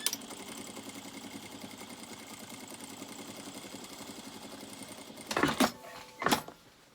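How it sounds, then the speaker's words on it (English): A sewing machine edge stitches a trouser pocket lining, running in a steady whirring hum for about five seconds before stopping, followed by two brief louder handling noises. "So I can edge stitch just to hold that seam allowance onto the inside of the pocket."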